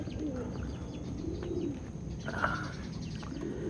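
Pigeons kept in cages coo softly in a low, continuous murmur over steady background noise, with a brief brighter call near the middle and no talking.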